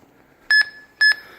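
A wireless anti-theft alarm gives two short, bright electronic beeps about half a second apart, close and clear against a quiet background.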